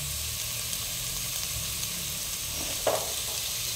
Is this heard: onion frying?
yes